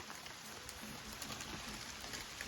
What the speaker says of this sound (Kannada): ಮಳೆ ಬರ್ತಾ ಇದೆ